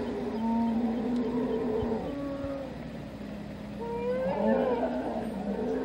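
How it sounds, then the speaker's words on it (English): Elephants mating in the Corbett jungle give long, drawn-out tonal calls and groaning rumbles that rise and fall in overlapping wavering tones, moderately loud and fairly close, over a steady outdoor background. "This is elephant mating."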